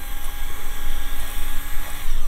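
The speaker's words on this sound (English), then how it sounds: "go ahead and stand in a safe position and run the drill by his foot" A power drill runs right beside a horse's hoof during a new shoe install, giving a close, steady, high-pitched whine that holds for about two seconds without pause or talk.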